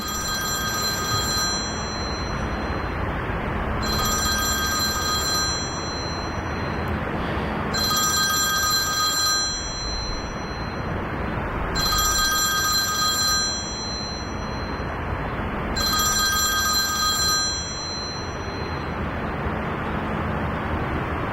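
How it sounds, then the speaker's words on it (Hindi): A telephone ringing in a Hindi-dubbed drama scene, five loud electronic ring bursts in a regular rhythm, each about two seconds long with short pauses between, no talking over them. "क्यों तुम्हारा फोन बज रहा है?"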